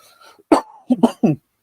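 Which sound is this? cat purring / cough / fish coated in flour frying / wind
cough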